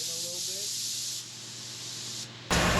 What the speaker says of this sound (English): Time to start spraying some epoxy primer.